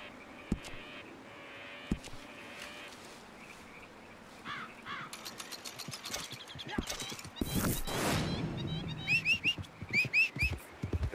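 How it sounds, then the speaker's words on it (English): Missouri Fox Trotter horse hooves clip-clopping in uneven, scattered steps, with crows cawing nearby and faint voices in the background. "You really like my new horse?"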